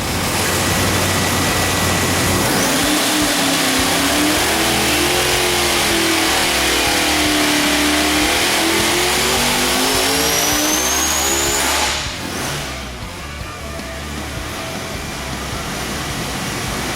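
A 2,500+ horsepower ProCharged big block Ford engine roars under load, its supercharged pitch climbing steadily for about ten seconds before abruptly cutting off to a lower idle-like drone; loud, close and continuous, no voices.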